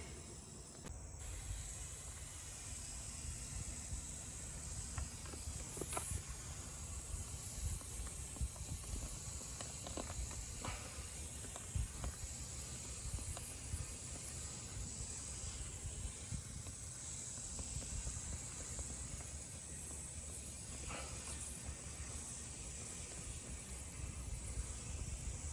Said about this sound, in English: It's supposed to be a low pressure spray.